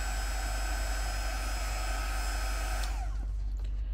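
Steady broadband whoosh of a hair dryer blowing over layered watercolour paint, loud and continuous for about three seconds before cutting off abruptly and trailing into quiet.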